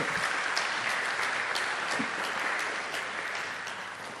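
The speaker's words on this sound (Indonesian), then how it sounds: "Kita beri aplaus Bapak Ibu." Audience applause at a university talk on evaluating companies in Yogyakarta, a steady broadband clatter of many hands that holds for about four seconds and slowly tapers, with no voices over it.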